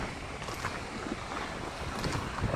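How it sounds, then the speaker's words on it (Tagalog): Steady wind rushing across the microphone, a broad continuous roar with slight gusts and no voices. "Ang hangin"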